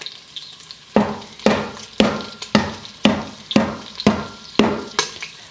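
A thumb-sized piece of ginger is bruised with about ten sharp, evenly spaced pounding strikes, each a crisp close thud with a short decay, and no talk.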